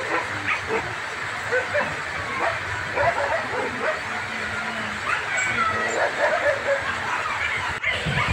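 Old English Sheepdog and Australian Shepherd dogs barking at a foreign-breed dog farm, with repeated yips and barks scattered through a steady background, some near and some farther off, mixed with faint voices.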